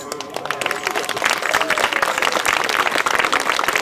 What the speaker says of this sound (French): vos applaudissements, c'est aussi le salaire des artistes